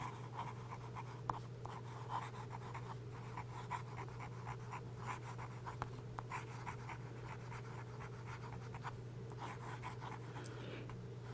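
A Cross fountain pen with a medium steel nib scratches steadily across smooth Rhodia paper, close and quiet, with continuous strokes and small taps under a steady low hum.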